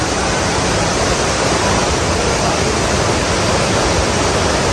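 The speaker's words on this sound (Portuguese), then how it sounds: "Estamos aqui no interior da cachoeira do Indiana Jones." Inside the Indiana Jones waterfall, a loud, close, unbroken roar of rushing water fills the space, a dense hiss with no pauses or other sounds.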